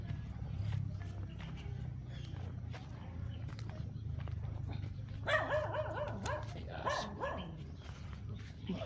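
A dog barks in a quick cluster of several yaps partway through, fairly close, over a steady low outdoor rumble with scattered faint knocks, in a rural setting in Batangas.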